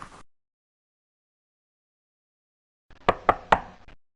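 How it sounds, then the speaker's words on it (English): Three quick, sharp knocks on a door sound close and alone after near silence, in a project management simulation game. "That's probably one of your team members knocking on your door."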